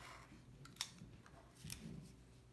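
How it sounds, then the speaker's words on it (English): Scissors making a rough cut through excess fabric hanging over the edge of a paper-pieced quilt block, a couple of quiet crisp snips with soft rustling between them. "So I'm just going to do a rough cut"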